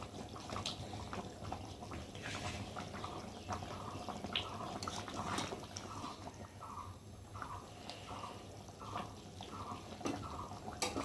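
A pot of chicken curry with potatoes bubbles on a gas stove, giving a soft, continuous simmering and popping sound at low volume.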